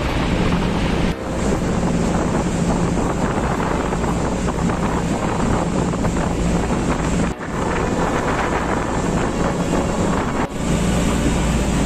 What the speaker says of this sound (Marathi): वारा आणि पाऊस दोन्ही खूप आहे.